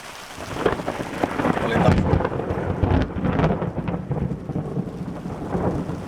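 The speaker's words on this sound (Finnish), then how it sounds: "Niin nyt tulee sitten tuolta tollanen ukkosrintama." Thunder rolls in from an approaching storm front over a lake, with rain pattering on surfaces nearby: a deep, building rumble that swells and fades under a steady patter of raindrops, no voices.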